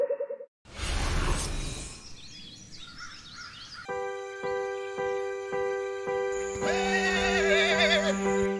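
A horse of Aurora breed whinnies loudly near the start and fades, followed by sustained tonal music with evenly repeating pulses and no talk.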